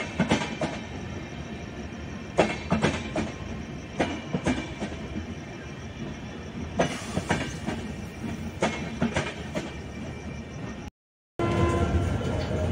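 An SMVT Bengaluru–Kamakhya AC express train pulls out of Durgapur station, wheels knocking in irregular clicks and clunks over a steady rolling rumble, heard from on board, with a brief dropout near the end.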